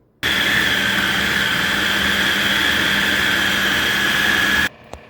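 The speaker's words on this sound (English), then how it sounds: "now we're going to give it another little blend to make sure everything is nice and mixed in there" Blender mixing a four-cheese spinach dip: a loud, steady high-pitched motor whir close up for about four and a half seconds, then stopping abruptly.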